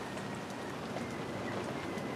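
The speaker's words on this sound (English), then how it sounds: "Hope this rain shower passes when I'm ready to go in." Steady rain shower falling in a back-step garden, a soft continuous hiss of drops on surfaces, even and moderately close throughout with no voices.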